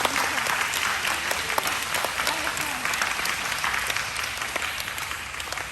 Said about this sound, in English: join me in giving them all a huge round of applause